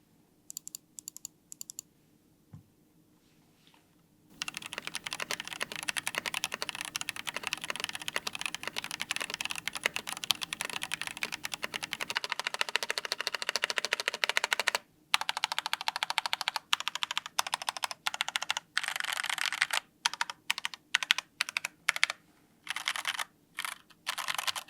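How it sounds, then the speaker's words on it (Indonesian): Noir OLV75 mechanical keyboard typed on close up, quiet at first, then a dense, continuous clatter of key presses breaking into bursts and pauses toward the end, no talking. "langsung aja kita akan cobain bikin sound test buat si Noir Olive 75 ini"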